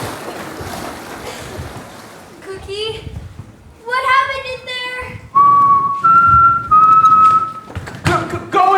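Several bursts of high, tonal whistling during a stage performance of a Peter Pan musical, some sliding and some held steady, loud and close, with a few voices in between.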